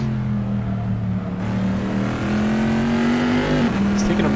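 A Corvette C7.R race car engine roars at Daytona in a sim racing game, a loud sustained engine note rising slowly in pitch with a brief gear change near the end, under a commentator's talk.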